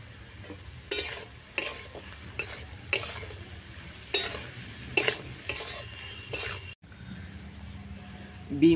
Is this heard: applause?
no